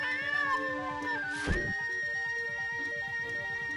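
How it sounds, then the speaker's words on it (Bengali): A cartoon cat gives a single drawn-out meow in an animated Bengali folk-tale story, rising and falling over a steady background music score with no talk. "এই বলে বজ্রমুকুট সেই মিষ্টি একটা বিড়ালকে খেতে দেয়"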